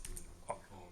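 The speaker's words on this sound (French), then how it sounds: "Essayez d'enfoncer la touche tabulation sur le clavier." Tab key pressed on a computer keyboard in an AZERTY layout, heard as a few quick soft clicks at close range, faint and brief.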